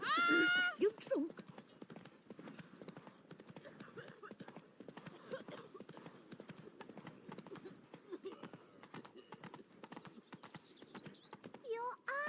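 Roach gallops in The Witcher 3, rapid hoofbeats pounding in a fast continuous rhythm at close range, with a voice heard at the start and again at the end.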